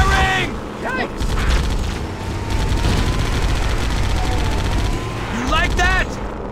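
Sustained gunfire from the Halo video game, dense and loud across the whole stretch, with bursts and impacts layered under brief character voices shouting over the shooting.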